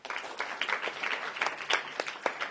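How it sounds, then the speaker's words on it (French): A youth ministry church congregation claps for children, a dense continuous patter of many hands at moderate distance, steady and brief with no voices over it. "applaudissons pour eux, s'il vous plaît"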